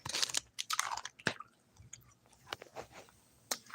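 A Blow Pop lollipop with a bubblegum center is chewed close to the mic, giving wet crunches and squishy bites in uneven bursts with quiet pauses between them and no speech.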